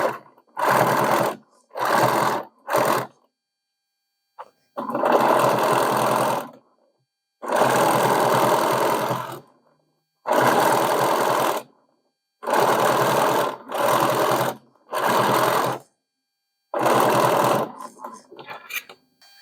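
A sewing machine stitches a sherpa-lined coat in repeated runs of steady whirring, some short and some a couple of seconds long, separated by silent pauses, close and clear.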